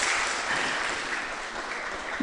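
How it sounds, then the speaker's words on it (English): Audience applause at a Bhagavatam class: a steady, moderately faint wash of clapping that holds evenly for about two seconds without any voices. "So give a huge round of applause."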